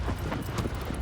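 Horse hooves gallop in the video game Shadow of the Colossus, a rapid, close clip-clop over a busy in-game background.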